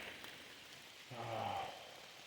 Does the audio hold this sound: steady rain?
yes